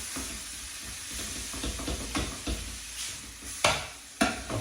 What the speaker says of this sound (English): Fry it off. Still got it on a medium to low heat.